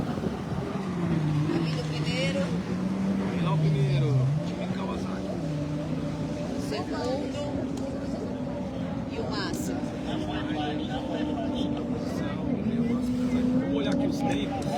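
A racing boat's engine drones hard and steady under heavy strain, its pitch rising and dipping as it labours, heard at a distance beneath continuous commentary.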